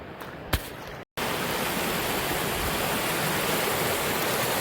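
High river water churns loudly around several small islands at Landsford Canal State Park, a steady broadband rushing roar that fills the clip after a short break near the start.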